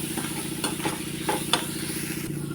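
Red chilli powder and spices fry in oil over a medium gas flame for dal fry, with a low steady sizzle and a few soft scraping stirs, close by.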